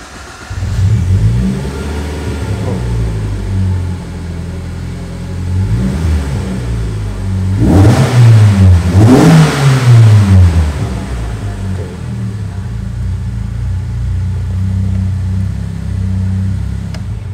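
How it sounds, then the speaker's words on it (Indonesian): A Morgan Plus 4 four-cylinder engine, roof open, cranks to life and revs in several rising and falling bursts, then settles into a steady, close idle with no talking. "Terus kayak apa sih suara dari mesin Morgan Plus 4 ini?"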